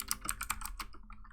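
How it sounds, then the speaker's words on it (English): Quick clattering keystrokes on a loud computer keyboard, a short burst of about eight sharp clicks close up, then a pause with a couple of fainter taps. "loud sounding keyboard"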